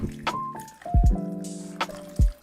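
Water is poured over bloodworms in a curved sieve, giving a close sequence of drips, splashes and gurgling liquid pops with short bright squishes and ringing tones between them.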